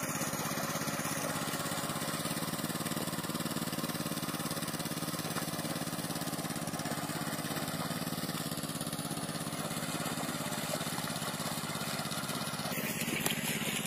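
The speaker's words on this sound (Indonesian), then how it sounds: "Jadi begitu beres traktor bisa dibawa balik traktornya." A 900cc mini tractor engine drones steadily and continuously at a constant pitch, running nearby with no pauses.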